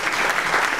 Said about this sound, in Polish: Bo również dla zespołu gorące brawa